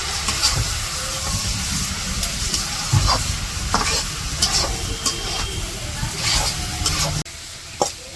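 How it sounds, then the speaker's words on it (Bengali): Cabbage stir-frying in a pan for a village-style dish, giving a steady close sizzle with repeated scraping and stirring knocks throughout. "এদিকে আমাদের পাতাকপিগুলা সুন্দর করে ভাজা ভাজা করে নিচ্ছে।"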